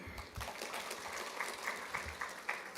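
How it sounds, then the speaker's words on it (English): Soft, steady applause from the audience at a Pan-African conference on environment, climate change and health, sounding somewhat distant and even throughout its brief span. "A round of applause to her."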